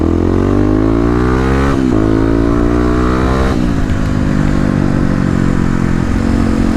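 Kawasaki KLX250 motorcycle revving hard at wide open throttle, its loud single-cylinder engine note climbing steeply through repeated gear changes, close and continuous.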